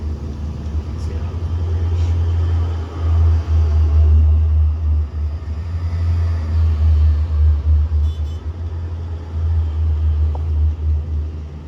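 A car engine rumbles low and steady, swelling and dipping as it drives, with faint clicks and scattered background sounds over it, in the Matrix Unreal Engine 5 demo.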